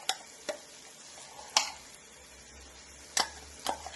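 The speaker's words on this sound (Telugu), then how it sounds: "పేస్ట్ మొత్తం వేసేసి బాగా ఎర్రగా వేగాలి" Onion paste for a Bhimavaram-style Godavari fish curry fries in a pan. A steady soft sizzle runs throughout, broken by several crisp ticks and clinks of a spoon stirring against the pan at irregular intervals.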